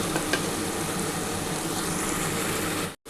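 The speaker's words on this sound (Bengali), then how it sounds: "প্রথমে কিন্তু আমি এই চিংড়ি মাছটা দিয়ে দিচ্ছি" Shrimp frying in spice paste in a pan, a dense, steady sizzle with light stirring scrapes, close and continuous, broken by a brief dropout near the end.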